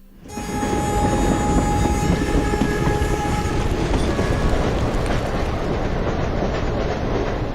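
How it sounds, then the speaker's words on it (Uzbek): An old green passenger train rumbles past a rural railway station in a poor region of China, loud and close, with a steady rolling roar, clattering wheels and a sustained horn tone in the first half. "Tezyurar poyezdlar davrida ham Xitoyning ayrim kambag'al hududlaridagi temir yo'l bekatlarida hanuzgacha ana shunday oddiy yashil poyezdlarni uchratish mumkin."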